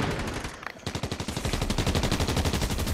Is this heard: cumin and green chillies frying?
no